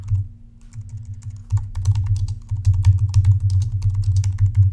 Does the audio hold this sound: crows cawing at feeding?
no